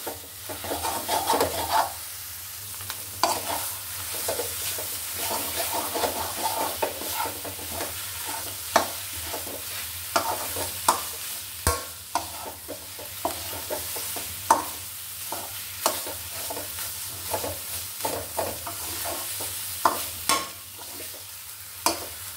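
Banana stem stir-fry being turned in a hot pan of oil, with a steady sizzle and repeated scraping strokes of a spatula that recur through the whole stretch, close and fairly loud, with no talking.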